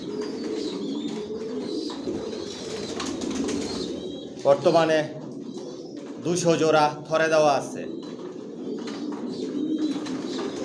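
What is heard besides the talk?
pigeons cooing in a loft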